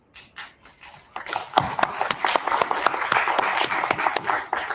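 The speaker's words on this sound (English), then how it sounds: "Please give yourselves a round of applause." Graduates clapping during a graduation ceremony: a few scattered claps at first, then a fuller round of applause from a group, steady and fairly close, with individual hand claps standing out.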